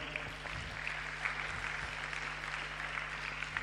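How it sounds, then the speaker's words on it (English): An audience at a university lecture event claps in a dense, steady patter of applause, moderately loud and continuous through the short span, with no speech over it. "I think you can give them a round of applause."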